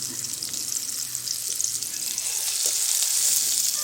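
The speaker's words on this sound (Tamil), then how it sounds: "வெங்காயம் வதங்கினது போதும் தக்காளியை போட்டுக்கலாம்" Onions and tomato frying in a pan, a steady loud sizzle that grows slightly denser toward the end, with no talking over it.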